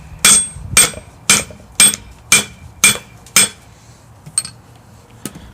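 Seven sharp, evenly spaced hammer-peen strikes ring against a plastic lamellar armor plate, each a bright clacking hit, followed by a few lighter, quieter taps; no one speaks.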